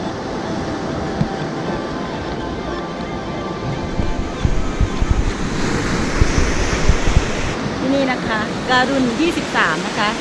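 Sea surf rolls onto Hua Hin beach in Thailand as a steady, broad wash of breaking waves, with wind buffeting the microphone and a voice speaking faintly over it in the later part.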